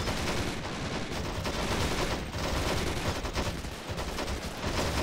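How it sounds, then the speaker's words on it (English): Sustained automatic gunfire rattles through a Men of War: Planetside 2 mod battle during a bridge assault, a dense, loud, continuous stream of overlapping shots and crackling bursts with no pauses. "we're gonna put some suppressing fire on that guy there"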